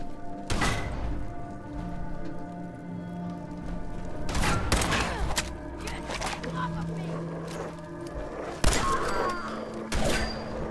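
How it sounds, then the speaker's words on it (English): Gunfire in the game Fallout 4 comes as scattered heavy booms and thuds over a constant game ambience, several loud shots spaced across the stretch, with someone talking in between. "Who the hell is shooting at me?"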